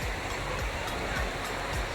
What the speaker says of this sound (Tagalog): yung ilog andito